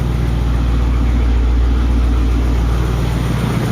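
A DeSoto car engine idles smoothly and steadily, a loud, constant low rumble close by with no change in pace.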